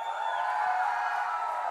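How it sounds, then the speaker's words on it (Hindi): A large audience at a press conference for the film Ganapath at Gaiety Galaxy, with Tiger Shroff present, claps and cheers in a dense, steady wash of applause. "एक बार जोरदार तालियां हो जाएं।"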